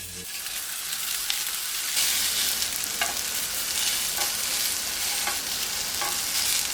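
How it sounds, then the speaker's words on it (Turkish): Minced meat sizzles steadily in a hot pan previously used to fry eggplant, a constant crackling hiss with occasional scraping stirs. "Şimdi patlıcanlarımı kızarttığım tavada bu sefer kıymalarımı pişireceğim."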